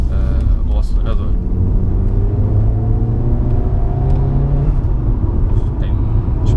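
An Alfa Romeo Giulietta QV fitted with a Supersprint exhaust runs loud and close, its deep engine rumble rising and falling as the throttle is worked for several seconds.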